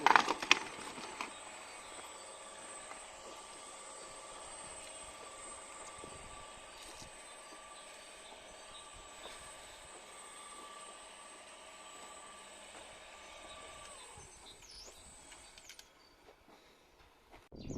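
A homemade DIY motor cultivator's engine runs with a steady droning hum for about fifteen seconds, then winds down and fades near the end.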